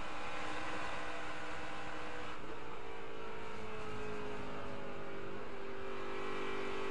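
NASCAR Camping World Truck Series race trucks lapping the Texas oval, a steady dense engine roar with rising and falling pitch as trucks run in close traffic, continuous and fairly loud with no talk.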